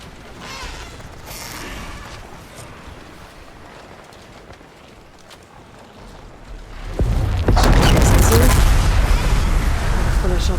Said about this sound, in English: Time to drop that bomb.